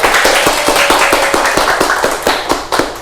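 Classroom of children at an Indonesian microteaching lesson claps in a loud, rhythmic group pattern, sharp evenly spaced hand claps close by, almost no talk.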